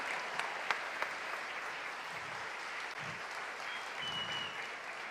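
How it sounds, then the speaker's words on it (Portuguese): Congregation clapping at a church water baptism service, a sustained, moderately distant round of applause with a few sharper claps standing out early on. "Uma salva de palmas mais uma vez."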